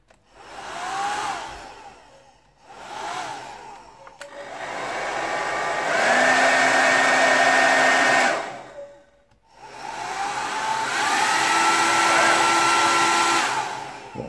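Xiaomi Soocas H3 ionic 1800 W hair dryer blowing steadily up close in several long bursts with short pauses between, its airflow roar joined by a rising whine when switched to a higher setting.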